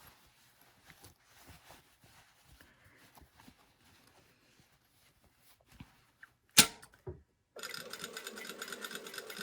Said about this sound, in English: I'm sewing with the waistband up because I want to be able to see my previous stitch line